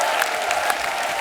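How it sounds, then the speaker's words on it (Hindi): Audience claps for Sunny Deol and Ameesha Patel at a televised star appearance, a brief burst of dense, steady applause with a few sharper claps standing out. "एक बार जोरदार तालियां हो जाए सन्नी पाजी और अमीषा के लिए।"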